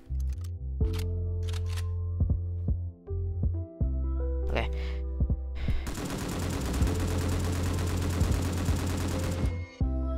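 Sustained automatic fire from an M249 machine gun in a video game, a dense rapid burst lasting several seconds and loud up close, preceded by scattered clicks and game sounds with some talking over them.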